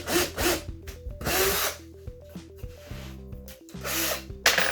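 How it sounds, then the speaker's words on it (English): A power drill bores a pilot hole down through wood in a carpentry job, its motor whining steadily with pitch shifts as it bites and eases through the workpiece. "I'm going to drill this one down through"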